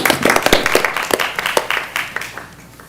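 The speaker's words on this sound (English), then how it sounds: "when was the last time you got applause in these chambers" Applause in a city council chamber, with several quick, dense bursts of clapping close by that taper off toward the end.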